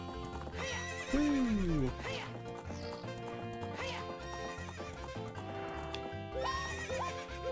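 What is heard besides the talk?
horse neighing and galloping in Zelda: Ocarina of Time video game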